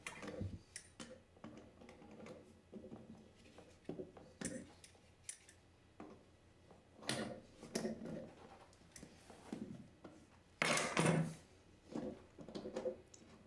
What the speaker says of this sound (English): loosen the valve body from the compression nut counterclockwise till the valve body is completely removed